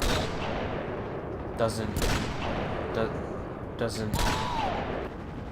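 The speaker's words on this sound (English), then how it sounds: "they stole the sniper noise from Halo" Sniper rifle shots in the Rogue Trooper video game, several sharp, loud cracks spaced a second or two apart over steady game noise, with a voice speaking between them.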